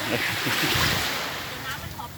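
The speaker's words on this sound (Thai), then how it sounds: "น้ำทะเลมันตีขึ้นเป็นฟองขึ้นมา" Sea waves break and foam on Bang Saen beach in the morning, a close, continuous surf wash mixed with wind buffeting the microphone, while a voice is faintly present.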